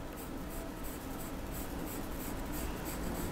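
Pencil drawing a half circle on paper for a 3D winter scene craft, a continuous scratchy rubbing stroke that stays close and steady throughout.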